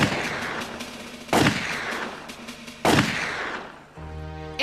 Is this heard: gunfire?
yes